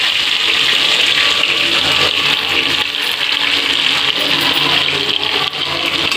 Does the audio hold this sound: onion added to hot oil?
yes